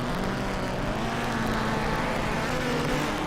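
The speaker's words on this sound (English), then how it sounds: "Revving the engines." Loud, continuous engine roar with steady droning tones as several rallycross cars line up and rev together nearby before a heat at Valkenswaard.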